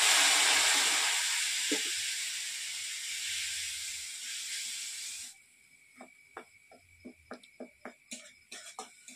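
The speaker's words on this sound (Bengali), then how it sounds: "একটু সামান্য জল দিয়ে মশলাটা ভেজে নিলাম।" Ground coriander and cumin masala with a splash of water hisses loudly in hot oil, a strong steamy sizzle that fades off halfway, then gives way to a string of short stirring taps.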